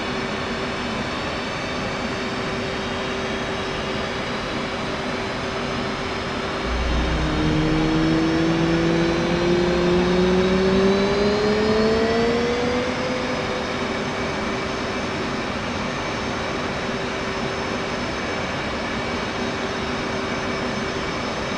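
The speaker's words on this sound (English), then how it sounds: "move the left throttle from off to idle by pressing right Alt Home. This will add fuel to the engine and start the igniters." F/A-18C Hornet jet engine spooling up during start-up in the DCS World flight simulator, a rising turbine whine climbing steadily in pitch over a constant background hum, moderately loud with no talking.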